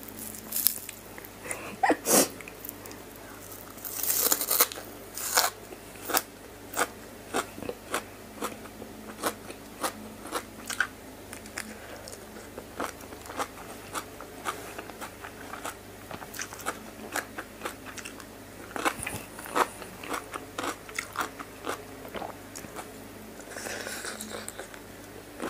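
Crunchy bites and chewing of a spicy Thai cucumber salad with fresh shrimp and dill, close and fairly quiet, with repeated sharp crunches and wet mouth sounds in an irregular rhythm throughout.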